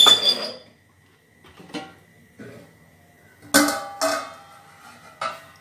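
A heavy griddle stone for adai is set down on a home kitchen stove, giving a few sharp clinks and clatters of stone and metal spread over several seconds, with quieter handling bumps between them.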